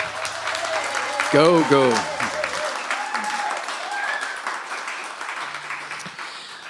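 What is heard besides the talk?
audience applause for Afriend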